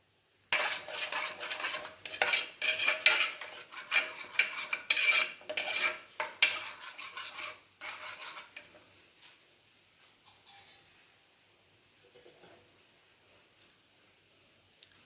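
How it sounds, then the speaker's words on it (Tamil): Cooked moong dal being mashed in a metal pot for payasam, a burst of close, quick scraping and clinking strokes that thins out and fades to near silence after about eight seconds. "இந்த அளவுக்கு நல்லா வேக வச்சணும் இதை நல்லா மசிச்சுக்கணும்"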